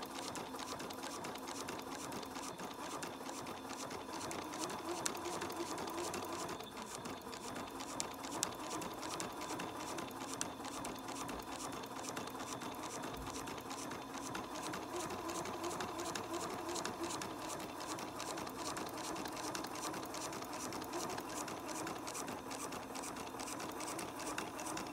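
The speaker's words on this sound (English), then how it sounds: "So now we're just gonna stitch right across this block, right down the middle of that seam" A sewing machine stitches straight across a rag quilt block along the seam, its fast rhythmic needle chatter running steadily and close for the whole stretch with no voices.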